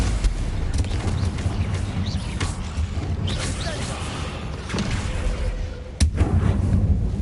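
Explosive Bombarda and Confringo spells cast in a video game, heavy booming blasts packed into a dense, continuous wash of game noise, with a sharp impact near the end and a voice speaking over it.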